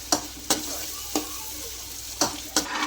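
Spoon stirring tomato chutney as it fries in a pan, several sharp scrapes and clinks over a continuous soft sizzle, close up.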